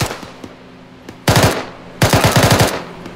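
Machine gun fire in the military simulation game ArmA during a ShackTac squad operation: two loud, close bursts of rapid automatic shots, the first short and the second longer, with faint isolated shots between them and no speech.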